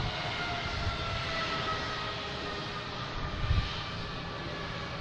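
A jet airliner taxis slowly toward parking between Spirit and JetBlue aircraft at Boston Logan, a steady, moderately loud engine whine and rumble holding even throughout with a brief swell near the end.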